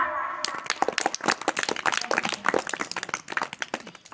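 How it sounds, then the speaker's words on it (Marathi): An audience at a religious discourse bursts into a lively round of hand clapping, a dense patter of many claps that starts abruptly and continues steadily at moderate loudness. "जोरात म्हणा संत भगवान बाबा की आत्ताशी आवाज गेला तर डबल तू स्वतःसाठीच टाळ्या वाजवा"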